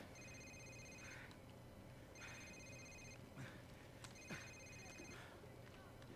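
A mobile phone ringing in Call of Duty 4: Modern Warfare, a repeating electronic ringtone in about three evenly spaced bursts, faint and distant beneath dense game ambience with occasional clicks.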